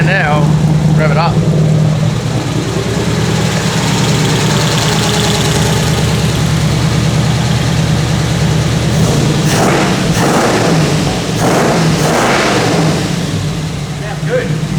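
A 1934 Ford coupe fitted with a new exhaust idles with a steady rumble, then is revved in several sharp bursts, loud and close, with voices talking over the engine.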